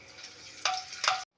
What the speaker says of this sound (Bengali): ওই তেলেই আমি কটা লঙ্কা ভেজে নেব